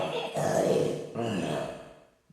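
Breathy snoring imitated by a human voice to mimic a sleeping ogre: two long, raspy inhale-exhale snores, close and moderately loud, with no other sounds around them.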